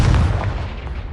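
Booming fire-spell explosion in the wizarding action game Hogwarts Legacy, a dense low rumble with a heavy burst at the start that rolls on as continuous thudding blasts, loud and close.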